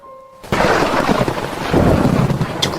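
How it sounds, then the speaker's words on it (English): Cartoon rain and thunder soak a picnic: a sudden loud crash of thunder opens into a dense, steady roar of heavy rainfall that keeps going to the end. "made it rain on the picnic"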